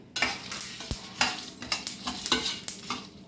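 Indian gooseberries fry in a pan with a steady sizzle while a spoon stirs them, giving repeated scraping strokes roughly every half second, close and clear with no talking.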